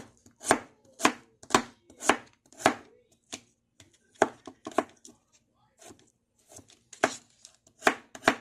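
A knife chops pozole ingredients on a cutting board in close, sharp strokes, arriving in an uneven rhythm of about fifteen distinct cuts with short pauses between groups.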